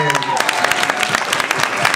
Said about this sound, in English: Clap for his dad right here